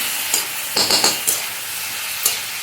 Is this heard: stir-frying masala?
yes